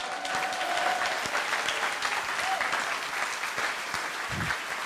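Steady applause from a crowd at a political rally in Nice, France, dense clapping sustained throughout at an even, fairly loud level.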